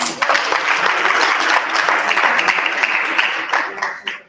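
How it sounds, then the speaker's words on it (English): An audience breaks into loud, sustained applause, many hands clapping in a dense, continuous wash that holds steady before tapering off near the end. "Let's give him a round of applause."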